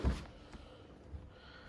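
A car door on a 1987 Chevrolet Caprice Brougham LS swings shut with one solid, heavy thunk right at the start, followed by a faint, quiet tail of room ambience.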